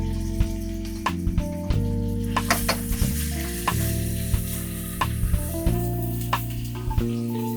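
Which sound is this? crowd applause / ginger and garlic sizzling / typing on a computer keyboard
ginger and garlic sizzling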